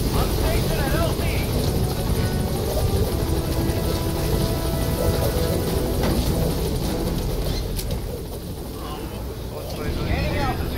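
A helicopter arrives at a landing zone in the video game Metal Gear Solid V, its steady loud rotor drone filling the whole stretch with continuous broadband rumble, under background voice chatter.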